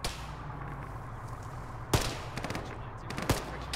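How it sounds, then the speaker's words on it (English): A cannon shell hitting a tank in a military video game, with two sharp, loud impact bangs and some crackling debris between them over a steady low engine rumble. "That was an incoming cannon shell on the tank."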